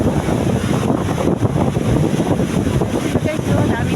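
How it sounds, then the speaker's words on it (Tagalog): Strong sea wind buffeting the microphone on a shore where fishing boats are pulled up against big waves, a loud continuous roar with gusty surges and surf underneath. "Lakas ng hangin guys."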